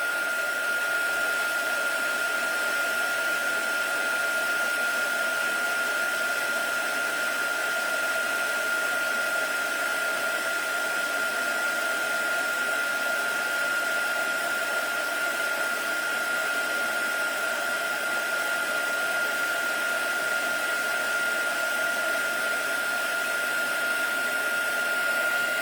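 A heat tool blows a steady, loud, unbroken whir with a high whine as it melts embossing powder for a baked texture effect, running alone the whole time.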